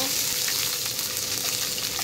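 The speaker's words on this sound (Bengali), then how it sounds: "এখন আমি এখানে রসুনগুলো হালকা ভেজে নিব।" Garlic cloves fry lightly in a pan as a continuous, even sizzle heard up close, with faint stirring and no voices.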